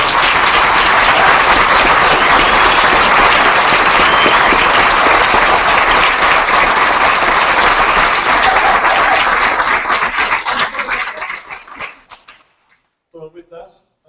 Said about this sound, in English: I think a warm round of applause for her.